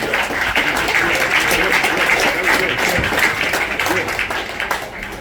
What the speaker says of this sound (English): Give the priest a round of applause again